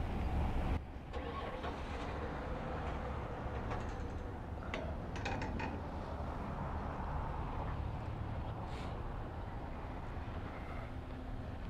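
A Vanguard small engine on an RK-47 series power washer starts up and settles into a steady, loud running drone that continues unbroken to the end, with no talking.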